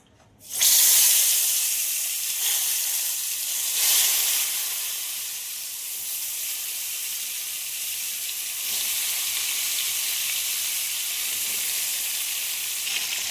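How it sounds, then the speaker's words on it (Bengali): Spiced whole eggplants drop into hot mustard oil in a kadai and set off a sudden loud hissing sizzle. It eases slightly and then holds as a steady bright crackle, with a few soft knocks. "গরম তেলের মধ্যে মশলা মাখানো গোটা বেগুনগুলো এক এক করে দিয়ে দিচ্ছি।"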